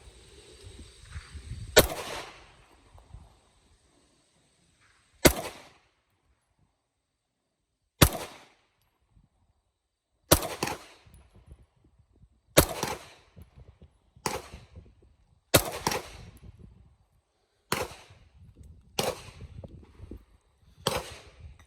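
Single gunshots fired one at a time with gaps of a few seconds, about ten sharp loud cracks in all, some echoing briefly. No one speaks between them.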